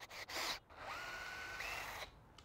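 A power drill drives into a pre-drilled blind hole in a heavy wooden workbench while a caster wheel mount is fitted. Close, steady motor whine climbs in pitch as it bites, with brief clicks of handling before and after.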